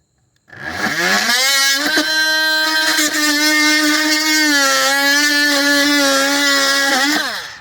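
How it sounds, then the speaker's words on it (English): A Ryobi jigsaw spins up and runs at full speed through wood, a loud, steady buzzing whine lasting about seven seconds with small dips in pitch under load before winding down at the end. "You got to get your jigsaw going full speed before it contacts the wood"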